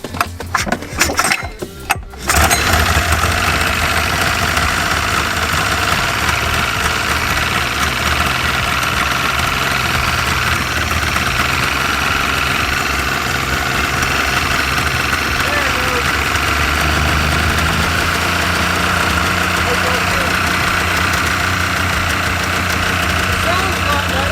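A Polaris Indy XLT 600 Triple snowmobile engine with problems is pulled to start, giving a few sputtering bursts before catching, then a loud, steady, rough idle that drones on close by without a break.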